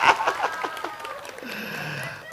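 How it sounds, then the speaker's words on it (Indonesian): An audience at a DPRD plenary session gives brief applause, a short burst of clapping and chuckles that quickly fades into murmuring crowd voices. "Tepuk tangan untuk sidang pleno DPRD"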